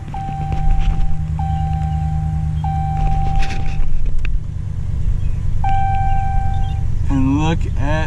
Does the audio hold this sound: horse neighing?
no